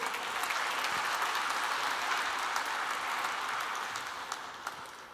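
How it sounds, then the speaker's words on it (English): A conference plenary audience at an agrifood tech event gives a round of applause, a fairly faint, even wash of many hands clapping that tapers gently near the end. "Please give them a huge round of applause."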